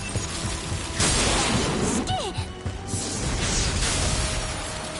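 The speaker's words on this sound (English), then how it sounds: "I hear the sharp noise of ice shattering behind me" Ice shatters in a sharp, loud, broadband crash about a second in, then trails into a sustained rushing clatter, with a short swooping tone in the middle of the burst, in a Tsukihime visual novel scene.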